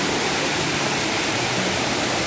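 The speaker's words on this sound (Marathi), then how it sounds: "या खाली धबधबा" A waterfall near Lonavala on the Rajmachi trek gives a loud, continuous roar of rushing water that fills the whole clip evenly and close up.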